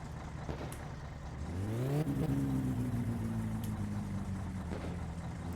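The Satsuma's cold engine in the My Summer Car video game, running with extra fuel, climbs from a rough idle into a rising rev, then holds a steady, buzzing drone.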